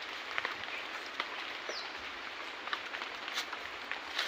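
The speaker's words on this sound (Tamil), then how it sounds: "சுற்றி மழை பெஞ்சிட்டே இருக்கு." Steady rain falls around a reserve forest as a dense, even hiss of drops, with occasional louder patters and faint bird calls in the background, and no one speaking.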